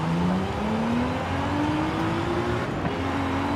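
A NASCAR race car and a 2020 Nissan GT-R R35 NISMO pull hard off the line in a drag race, a loud engine roar climbing steadily in pitch as they accelerate.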